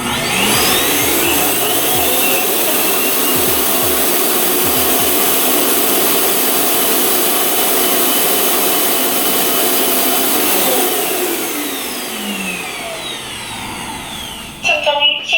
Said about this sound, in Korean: 스테이션으로 복귀해 충전을 하고 먼지 수거가 자동으로 진행됩니다